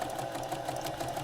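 A sewing machine running an overcast stitch along fabric edges inside an RV, a steady close-up buzzing hum with rapid even needle rhythm throughout.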